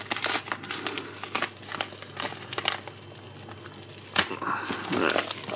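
A trading card pack wrapper is torn open and handled close up, producing irregular crinkling and tearing crackles with a sharper rip near the end.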